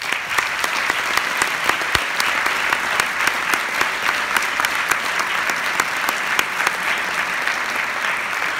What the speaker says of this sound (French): Merci d'applaudir Gaspard Noé.